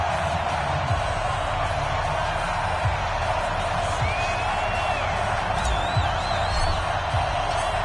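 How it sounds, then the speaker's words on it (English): A stadium crowd roars and cheers continuously in an American football video game on PS4 as the Redskins take the field in Week 15, a dense, steady wall of crowd noise with occasional whistles and whoops rising above it. "this crowd is pumped up as their Redskins get set to match up with their opponents"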